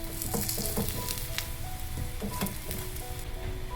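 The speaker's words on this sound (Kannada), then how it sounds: "ಎಣ್ಣೆ ಹಾಕಿ ತಿರುಗಿಸಿ ಬೇಯಿಸ್ಕೋಬೇಕು" Paratha frying on a pan in a little oil, a steady close sizzle running throughout with faint scraping clicks as it is turned and flipped, no voices.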